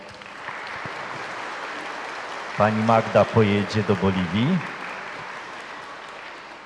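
Parish congregation applauding a lay missionary inside a church, steady clapping throughout while someone speaks over it in Polish.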